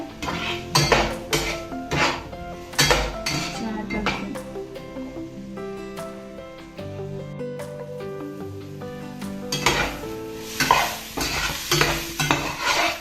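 Lentils fry and stir in a pan for cucumber chutney, with repeated spoon scrapes and clinks against the pot over a low sizzle, loud close strokes coming in bursts with softer stretches between, and background music running under it.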